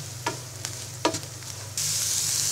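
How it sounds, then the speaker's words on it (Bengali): Carrots and long beans with salt fry in a pan, stirred with three or four sharp utensil scrapes over a low sizzle. Then a much louder, steady hiss surges in and holds. "এবার সব কিছুর সাথে সবজিগুলোকে ভালোভাবে ভেজে নিব।"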